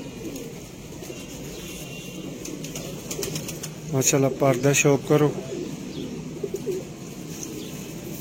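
Pigeons coo and chirp in a loft of Sialkoti kabootar pigeons kept for sale, soft throaty cooing through the clip, and someone talks over the birds partway through.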